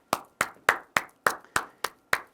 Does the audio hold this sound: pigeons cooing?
no